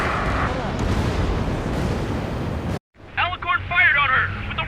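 Railgun and ship guns fire in Ace Combat 7 as a dense, roaring blast of noise, then an abrupt cut to a quieter scene where voices talk over a low rumble.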